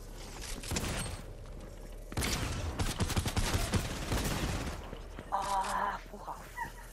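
Bursts of rapid gunfire sound in a Fortnite desert zone wars match, clustered shots with mechanical reload clatter, mixed with excited shouting players talking over the action.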